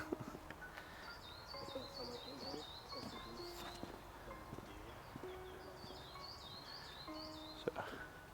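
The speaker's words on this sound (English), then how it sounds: "that's a weird sounding bird." Unusual bird calling near a pond in Clewer Park: repeated bursts of high, wavering chirps come in two runs among scattered lower tones and soft footstep-like taps outdoors, fairly faint.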